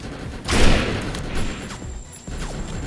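Bursts of enemy gunfire in the shooter game Defiance, a loud booming volley near the start followed by scattered thumps and sharper shots over a busy game mix.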